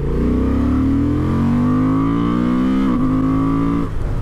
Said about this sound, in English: Yeah, it does sound great, this parallel twin motor.